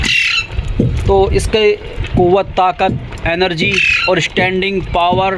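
A pet parrot squawks repeatedly in sharp, loud bursts close by, overlapping with someone talking continuously.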